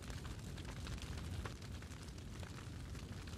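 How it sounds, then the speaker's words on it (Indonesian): A dense, rumbling roar of overlapping blasts and crackling bursts, continuous and loud throughout, like a barrage of explosions with fire raging. "Karasu memberondong tembakan bola energi. Tempat itu terbakar."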